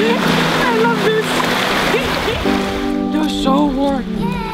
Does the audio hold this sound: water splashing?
yes